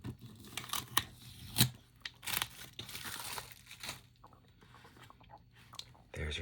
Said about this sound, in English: That packaging tape is a lot easier to get off than the US version